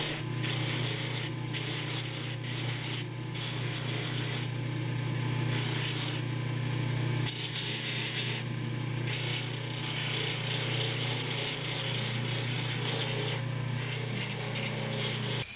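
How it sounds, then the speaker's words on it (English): Rough-shaped wooden intarsia pieces are ground on a pneumatic drum sander. The machine hums steadily while the sanding rasps in repeated bursts as each piece is pressed on and pulled away. No voices are heard. "Then I rough shaped everything on the pneumatic drum sander."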